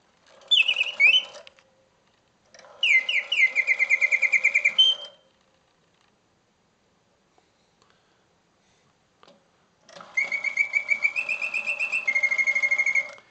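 An antique Bontems singing bird cage automaton plays mechanical warbling birdsong with fluttering trills and whistles in several phrases separated by silent pauses, close and clear with faint mechanical ticks between.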